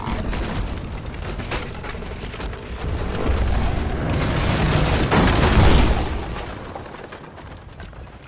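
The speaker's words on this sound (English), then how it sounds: "The road's too old to take much more of that pounding." Heavy booming impacts from goblin tanks pounding an old bridge in the game Knack, a dense, continuous rumbling barrage that swells toward the middle and then eases, with no talk over it.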